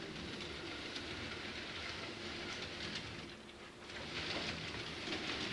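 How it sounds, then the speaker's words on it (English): A model railroad train with a Burlington locomotive hauls a northbound string of empty coal cars, giving a steady, soft rolling rumble and hiss with faint clicking of wheels on track. "So we've got the Burlington pulling the northbound empty coal drag."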